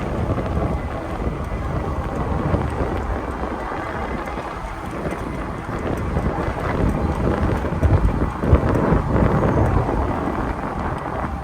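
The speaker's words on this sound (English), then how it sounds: "Ooh, it's windy." Strong wind roars and buffets against the microphone in continuous gusts during an e-bike ride on a trail, a loud rumbling rush with no voices.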